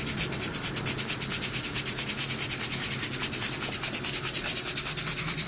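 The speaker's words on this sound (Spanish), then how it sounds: "Este es el proceso de lijado." Sandpaper rubs steadily over a handmade clay pot in quick, even back-and-forth strokes, a loud close scratching rhythm with no voices.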